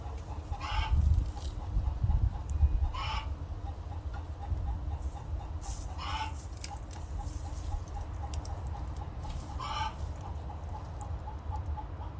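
Chickens cluck softly and repeatedly nearby, with a few louder squawks standing out against a low outdoor rumble.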